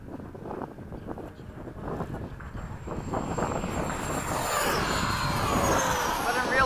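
A Freewing 90mm F-22 RC jet at full throttle gives a rising, roaring whoosh that swells louder as it passes close, with wind buffeting the microphone.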